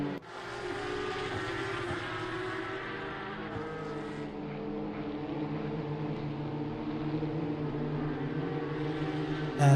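Porsche Cup and BMW M2 race cars lapping Imola in a sim racing game, several engines droning together in a steady, dense roar that holds loud throughout with no voices.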